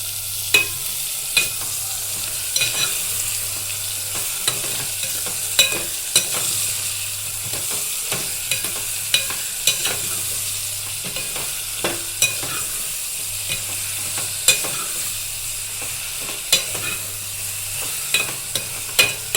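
Brinjal curry frying in a pan, a constant hiss of oil punctuated by regular scraping and tapping strokes of a spatula, close and without talk.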